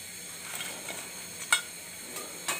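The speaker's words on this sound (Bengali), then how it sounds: "এখন আমি ফুলকপিগুলো ভেজে নেই" Cauliflower pakoras fry in hot oil with a faint, steady sizzle, broken by a few sharp pops and small stirring clicks.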